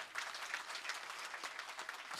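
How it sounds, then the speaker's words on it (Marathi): A crowd at a pahadi-style kirtan in Vadachiwadi claps together, a dense, even wash of hand claps sustained throughout at a modest, somewhat distant level, with no speech over it. "त्याबद्दल एकदा जोरदार टाळी वाजवा"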